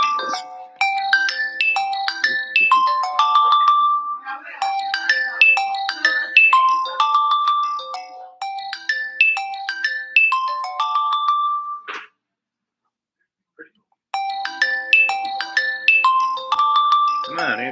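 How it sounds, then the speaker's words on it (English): A phone ringtone plays a repeating melodic pattern of bright tones in several loud bursts, cutting off briefly before one more round starts near the end. "Come on, answer the phone."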